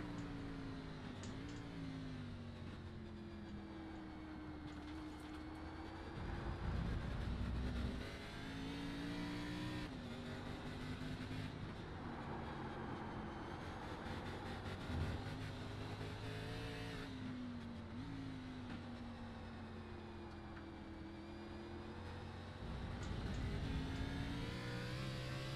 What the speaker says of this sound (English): Can hear how long he is waiting on that throttle as they go up the hill now.